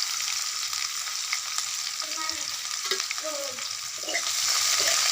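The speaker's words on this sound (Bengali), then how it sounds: "দিয়ে পেঁয়াজ কুচিটাকে একটু ভালো করে ভেজে নেব।" Chopped onions fry in hot oil with bay leaf and five-spice seeds in a pan, a constant crackling sizzle under intermittent spatula scrapes, close and moderately loud.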